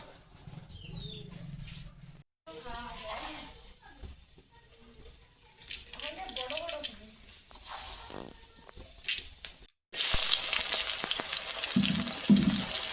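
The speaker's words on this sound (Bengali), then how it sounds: "পেঁয়াজগুলো ভালো করে ভেজে নেব" Onions frying in hot oil in a wok for chicken curry give a soft, uneven crackle with scraping stirs, ending in a louder, denser sizzle; no talking.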